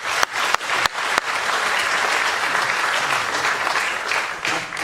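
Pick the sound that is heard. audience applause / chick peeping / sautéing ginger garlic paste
audience applause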